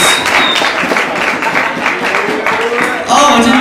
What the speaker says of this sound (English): please give a round of applause for Oliver Baines